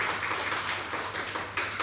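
A church congregation claps loudly during a worship service, a thick burst of hand claps with uneven pulses, close and continuous for the whole moment.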